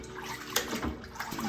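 Aquarium canister filter tray from a Fluval filter plunged and swished in a tub of water, giving a short run of sloshing, splashing water noise with one sharper splash midway, fairly close and continuous.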